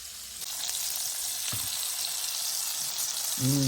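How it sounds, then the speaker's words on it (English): Flounder fillets searing skin-side in a hot pan give off a steady, close sizzle with a few faint utensil clicks. A short clatter comes near the end. "we're just going to sear the back of the fish for a few minutes"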